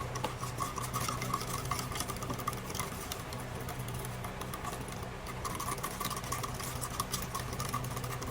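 A water and cornstarch sauce for a Chinese-style chicken dish being stirred, a faint, steady swirling patter with a low hum running beneath it.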